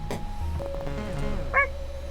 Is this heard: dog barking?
yes